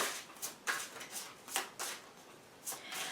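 Tarot cards being shuffled by hand in a series of crisp, papery riffling bursts, roughly six or seven quick flurries spaced irregularly, close and fairly quiet, with no talking.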